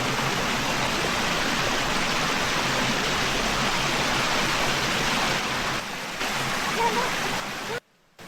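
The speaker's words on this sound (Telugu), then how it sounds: "స్టార్టింగ్లోనే మనకు వాటర్ ఫ్లో చూడండి ఎంత అద్భుతంగా ఉందో" Water pours steadily at Kolanu Bharathi waterfall near Srisailam, a loud, continuous broadband rush that dips briefly near the end.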